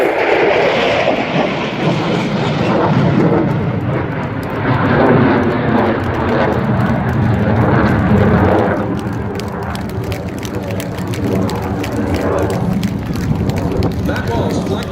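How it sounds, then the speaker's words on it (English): A Eurofighter Typhoon FGR4 jet makes a final pass at the East Fortune air show, a loud, broad roar filling the whole stretch that eases slightly partway through and then carries on steadily. "And coming past us for the last time, the Eurofighter Typhoon"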